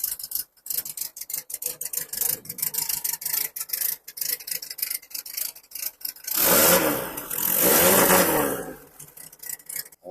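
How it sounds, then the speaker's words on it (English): A Volkswagen Baja Bug's air-cooled engine is cranked and catches, then runs with a rough, loud burst of mid-pitched revving for a few seconds, surrounded by clicks and handling noise nearby. "We're going to get the bug started up just so we can prove that it is running."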